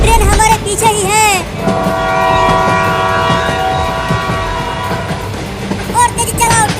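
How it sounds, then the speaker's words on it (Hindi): A train close behind, with a loud sustained horn blast over rumbling wheels and rail clatter, while excited voices shout over it. "ट्रेन हमारे पीछे ही है।"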